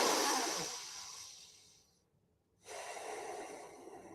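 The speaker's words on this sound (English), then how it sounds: "Let's take just one more breath together." A deep diaphragmatic breath during a breathwork exercise: a long, airy inhale fading out, a short silent pause, then a steady exhale, close and alone with no talking.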